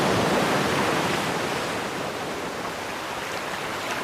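Steady sea waves washing in a continuous broadband rush, loud and close, with no distinct breaks or voices, suited to relaxation and meditation.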